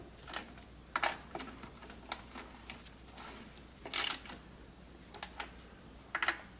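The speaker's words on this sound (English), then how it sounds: "Snug them up with the wrench." Ratcheting wrench snugging the valve cover cap nuts on a Toyota Camry 2.4 engine, a series of quick, light clicking bursts spaced irregularly over several seconds, close and fairly quiet with no talking.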